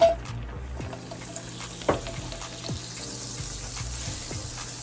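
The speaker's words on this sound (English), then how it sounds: "Add some olive oil, half stick of butter." Butter melting in olive oil in a pan gives a steady, moderate sizzle and crackle with a few brief sharper pops, no voices.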